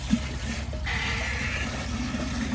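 A Glacier Bay dual flush toilet flushes during a performance test with a washcloth in the bowl. A close, steady rush and gurgle of water runs the whole time with no talking.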